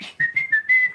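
A clear, high whistled melody from Mozart's Queen of the Night Act 2 aria, a few sustained notes with small breaks between them, close and alone.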